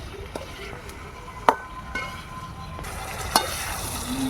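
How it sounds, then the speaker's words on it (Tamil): Brinjal sautés in oil for Dindigul oil kathirikai kuzhambu, a soft frying sizzle with a few sharp clinks and scrapes of a ladle against the pan. "நல்லா எண்ணெயிலே வதங்கணும் ஃப்ரெண்ட்ஸ்."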